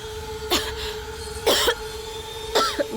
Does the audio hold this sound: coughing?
yes